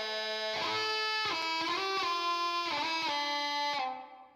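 A music sample run through a heavy guitar amp distortion preset with compression rings out dense and saturated, with thick sustained chords that shift several times before fading out at the end.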